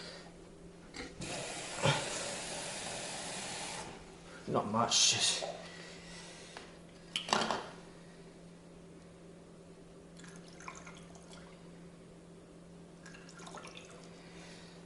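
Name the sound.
water being poured into a glass jar of mead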